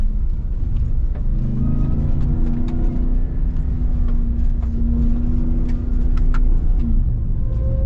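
A 2021 Ram TRX pickup driven fast along a rough, beat-up off-road trail, with a loud continuous engine drone and rumble plus bumps and rattles from the uneven ground.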